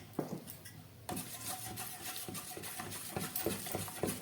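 A raw egg and a spoonful of cornflour are whisked together in a bowl, giving quick rhythmic scraping and tapping strokes, close and clear, with no talking.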